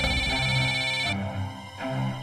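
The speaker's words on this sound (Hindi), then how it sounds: "हाँ, दीदी का फोन है।" A mobile phone ringtone plays loud and close, a tonal melodic chime that breaks off briefly and resumes, with no talk over it.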